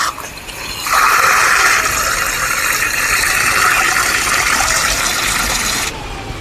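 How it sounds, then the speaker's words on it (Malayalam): Filtered borewell water from an iron-removal treatment system gushes steadily from an outlet past a check valve. The flow is loud and close, surges up after a moment and then drops away near the end. "ഇതിൽ നമുക്ക് വെള്ളത്തിൻ്റെ ഔട്ട്പുട്ട് കാണിച്ചു തരാം"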